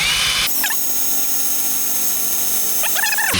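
A loud power drill whirs at full speed for a few seconds, close by, drilling into a seized wheel lock nut, starting and stopping abruptly.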